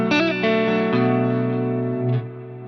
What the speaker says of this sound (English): This is a really nice clean tone.